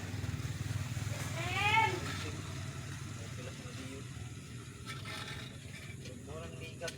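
Motorcycles speeding along a road, an engine swelling loudly as one passes close then fading, with other engine drone and voices talking over it.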